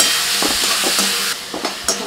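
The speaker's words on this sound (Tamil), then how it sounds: "வெங்காயம் தக்காளி நல்லா வதங்கிடுச்சு" Onions and tomatoes with rock salt sauté in a hot pan with a loud, close, continuous sizzle, while a spatula stirs through them in a few soft scraping pushes.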